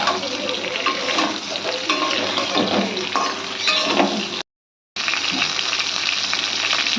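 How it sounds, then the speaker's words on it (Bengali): Green eggplant pieces frying in tempered oil for a Bengali fish curry, a loud, close, continuous sizzle with spatula stirring and scraping, briefly cut by a moment of silence before the frying resumes. "বেগুনগুলোকে ফোড়নের তেলের সঙ্গে ভালো করে ভেজে নিতে হবে।"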